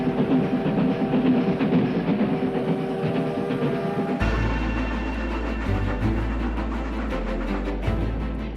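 A train rolls along the rails during a long journey into the interior of Brazil, a steady rumble with rhythmic clatter that grows heavier and lower partway through. No voices are heard.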